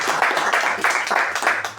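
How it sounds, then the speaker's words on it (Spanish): Audience applause at a book launch for Infinitas, palabras de amor II in Paraguay: a steady, dense patter of many hands clapping, fairly close and continuous, with slight swells throughout. "Y Pedro Volpe, un aplauso."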